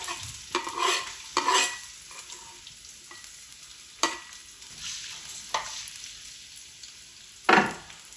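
Garlic frying in about half a cup of hot oil in a pan on a stovetop, a steady crackling sizzle broken by several louder bursts of stirring and scraping, with no talking.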